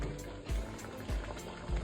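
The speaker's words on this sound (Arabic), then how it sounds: "هسه راح نضيف المي،" Water is poured into a pot of Iraqi red-meat stew with onion and tomato paste, giving a close, gurgling, splashing flow with a few heavier glugs and no talking.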